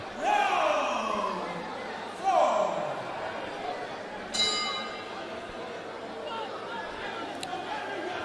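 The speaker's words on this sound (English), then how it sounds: "eventually answers the bell to the 4th round." A boxing ring bell rings for the fourth round at a super featherweight bout in Bukom, with sharp bell strikes ringing out over crowd chatter and cheering from a busy arena.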